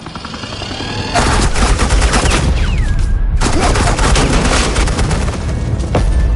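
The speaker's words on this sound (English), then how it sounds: "suppressing fire" Suppressing gunfire in Batman: The Enemy Within video game, a loud, sustained barrage of rapid automatic shots with booming low end, starting after a moment of quieter ambience and continuing unbroken apart from a brief dip.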